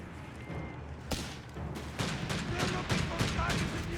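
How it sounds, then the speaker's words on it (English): Artillery fire from a 2-pounder anti-tank gun in the strategy game Company of Heroes 3, with several booming shots and distant battle gunfire under a continuous bed of noise and talk. "2-pounder gun is fairly effective, especially once it gets the veteran's vulnerability."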